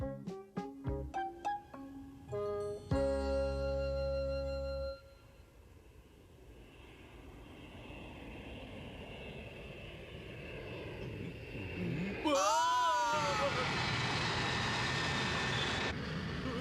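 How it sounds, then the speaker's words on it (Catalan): A large cartoon airplane roars overhead, rising from a low rumble into a loud, wavering engine sweep that fills the end, after a run of musical notes at the start, with no speech. "és un avió de veritat! Els més grossos que hi ha!"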